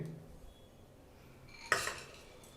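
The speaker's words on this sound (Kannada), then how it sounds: "ತೊಳೆದಂಥ ಬೇಳೆನ ಒಂದು ಕುಕ್ಕರ್ಗೆ ಹಾಕ್ಕೊಳ್ತಾ ಇದ್ದೀವಿ" A brief metallic clatter as washed lentils are tipped into a steel pressure cooker, a single bright clang after a quiet moment.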